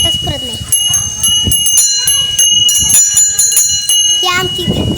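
A small bell at a Surya temple rings with bright, sustained metallic tones, struck repeatedly and layered with overlapping chimes, while voices talk nearby.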